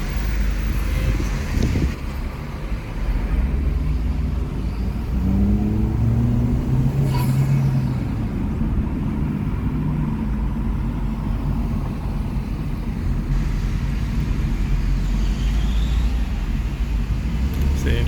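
A Chevrolet Cruze Turbo fitted with a downpipe drives on a street, its engine and exhaust giving a steady droning rumble that rises in pitch twice as it revs, heard from inside the car throughout.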